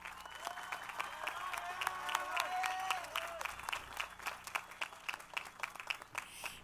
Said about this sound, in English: Please give these students a big round of applause.